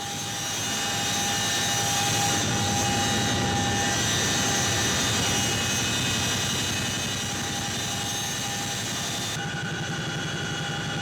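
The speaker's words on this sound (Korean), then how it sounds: "헬기가 사고 지점을 향해 달리는 동안" A search-and-rescue helicopter in flight heading toward a crash site off the Taean Peninsula, a loud steady rotor and turbine drone heard from inside, continuous throughout.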